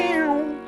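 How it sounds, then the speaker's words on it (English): A single drawn-out, clear meow with a falling pitch, close and moderately loud, about half a second long. "Meow"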